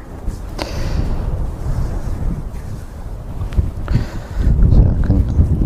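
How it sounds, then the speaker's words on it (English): Strong coastal wind buffets the microphone outdoors at Ceibwr Bay in Pembrokeshire, Wales: a steady low roar that swells in gusts, loudest near the end. "Oh, it's quite windy."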